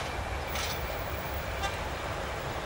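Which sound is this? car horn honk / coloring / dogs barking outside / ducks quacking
car horn honk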